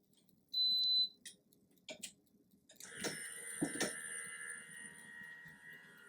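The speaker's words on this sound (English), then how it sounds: "I plugged it in and it powered up on its own. You can probably hear it." A Procolored DTF printer powering up after being plugged in gives a short electronic beep, a couple of clicks, then a steady mechanical whirring hum with faint clatter, close by and without talk.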